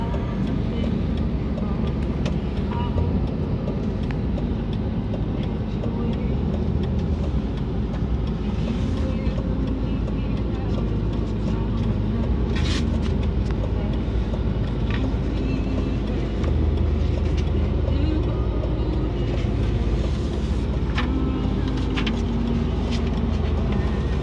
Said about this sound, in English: right now I'm riding a Joyride of a Lamborghini Gallardo today